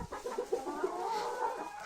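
Chickens cluck close by in a short run of soft, repeated clucks with a faint high call near the end.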